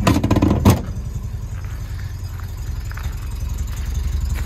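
A 1970 MGB roadster's engine idles at close range with a steady low, throbbing rumble, after a louder, rougher burst in the first second.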